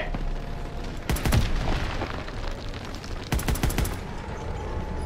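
Panzerschreck rocket explosions in the video game Call of Duty WWII hit as two loud bursts of booming blasts and rattling gunfire against a continuous noisy battle din.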